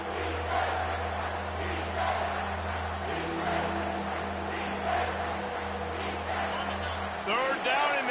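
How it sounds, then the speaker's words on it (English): A stadium crowd roars in a College Football video game, a continuous, swelling wall of cheering voices under a play-by-play commentator talking throughout, with a low steady hum beneath. "this crowd is tearing the lid off this place"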